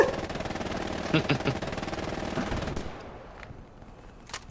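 Machine gun fire at night in the video game Hell Let Loose, rapid bursts of shots in the first part that fade into a quieter stretch with a few isolated distant shots, with a person talking.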